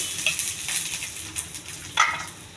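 Mustard seeds, cumin, curry leaves and chana dal frying in a little oil, a close crackling sizzle with faint stirring scrapes and a sharper burst of spattering near the end.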